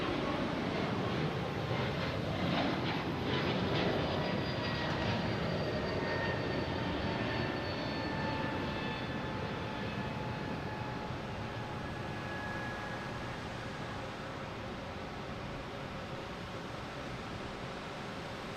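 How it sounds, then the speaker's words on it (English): A Delta Airbus A220 climbing away from Boston Logan, a steady distant jet roar with whining engine tones that slowly fade as it recedes. "Boston to Austin. Delta A220, flight 1410."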